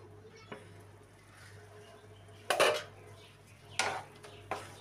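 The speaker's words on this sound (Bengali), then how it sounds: "নেড়ে চেড়ে নিয়ে ঢেকে দেব।" A pan of prawn and roselle curry with tomato being stirred and covered: a few sharp metallic clanks and scrapes of utensil and lid against the pan, spaced out over a quiet background hum.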